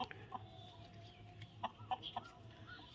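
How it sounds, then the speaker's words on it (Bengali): Native village chickens in an open field give soft, scattered clucks and short calls at moderate distance over a faint outdoor background, with quiet gaps between the bursts. "এই সব মুরগিগুলোকে দেখুন, সব দেশি মুরগি এগুলো।"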